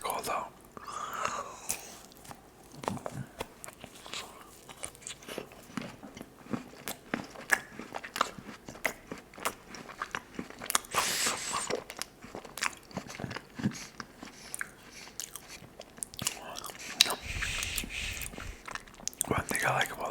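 Close, soft biting and crunchy chewing of a giant Reese's peanut butter cup with thick chocolate layers, intermittent crisp clicks and mouth sounds interspersed with quiet whispered talk.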